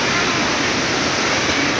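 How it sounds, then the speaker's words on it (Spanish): A waterfall at an outdoor swimming pool makes a loud, steady, broadband rush of falling water, close by and unbroken, with no voices. "Está la cascada."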